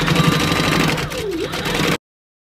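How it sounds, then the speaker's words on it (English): A sewing machine hums and clatters steadily as it stitches down the sides of fabric pieces, close by, then stops abruptly; no one speaks. "I'm gonna go ahead and do both while we're at the sewing machine and just sew down both sides"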